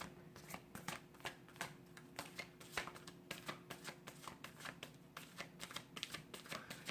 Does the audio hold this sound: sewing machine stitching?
no